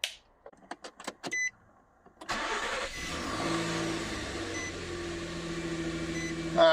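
A Nissan Frontier pickup engine, on a 2005–2019 model, starts up after a few faint clicks and settles into a steady close idle with a low even hum, and no talking.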